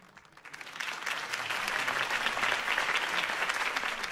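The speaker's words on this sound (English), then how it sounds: "Mr. Wayne, my campaign's largest backer, could have heard that applause" Crowd applauds after a campaign speech in the Batman Telltale video game, rising quickly from quiet into a dense, steady clapping that carries on to the end at moderate loudness.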